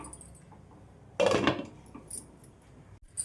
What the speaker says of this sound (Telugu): ఇప్పుడైతే మూత పెట్టేసుకుందాం